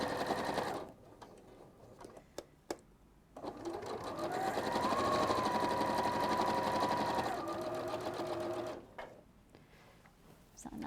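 A domestic sewing machine stitches a quilt seam around a curve with the needle-down setting, running in a steady continuous whir for several seconds between brief stops, close and clear.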